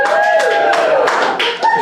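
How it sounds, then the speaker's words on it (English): A comedy club audience at The Comedy Spot claps for single people. A few scattered claps and brief bursts of applause sound under a voice talking over them. "Then I'm like, round of applause, single people, single people."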